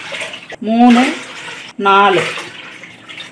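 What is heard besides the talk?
water being poured into a pot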